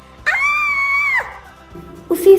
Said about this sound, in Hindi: उस डरावनी शक्ल को देखकर रानी इतनी बुरी तरह डर गई कि उसकी चीख निकल गई।